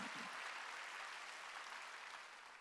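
A Korean church congregation applauds during a Wednesday worship service: a steady, dense wash of many hands clapping together, fairly far off and even in level, easing slightly at the end.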